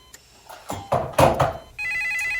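An office telephone rings with a steady, insistent electronic tone that starts after some clunks and handling knocks, close and fairly loud, with no talking over it.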